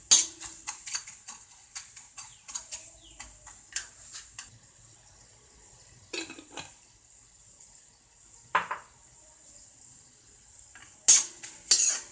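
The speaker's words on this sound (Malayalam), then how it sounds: "ഇഞ്ചി നന്നായി മൂത്ത് വരുന്നത് നല്ലതാണ് ഒരു ക്രിസ്പി ടൈപ്പ് ഇഞ്ചി ആയിക്കോട്ടെ" Ginger fries in a pan for an instant mango pickle. Quick clinking stirs of a metal spoon sound over a faint sizzle, settle into a quieter stretch, then return in a few sharper knocks.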